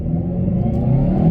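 A 300-horsepower Hyundai i30N engine pulls hard while the car accelerates in reverse, a loud, close, droning growl that climbs steadily in pitch without a break.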